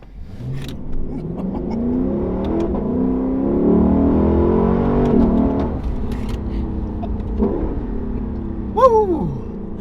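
A 2022 Lexus LC500 V8 accelerates hard in manual first gear, its engine roar climbing steadily and holding loud, then easing off, with a short excited shout from an occupant near the end.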